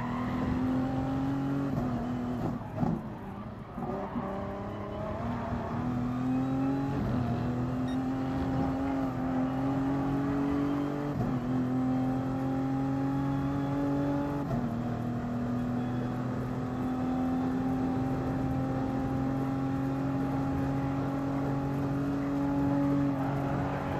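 A race car engine in Gran Turismo Sport hums and revs continuously, its pitch stepping up through repeated gear changes with a brief dip early on, loud and close with no talk.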